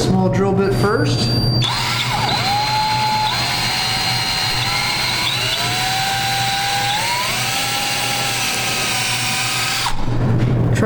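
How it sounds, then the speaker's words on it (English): A power drill fitted with a small bit bores holes in a Super Jet during a build, whining loudly at a steady high pitch for several seconds, sliding up as it spins, with brief handling noises at either end. "I'll take a small drill bit first."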